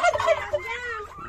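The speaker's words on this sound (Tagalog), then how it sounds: "Ang mga pabo na to." Turkeys gobble in a rapid, warbling burst of several calls close by on a small farm, with no talking.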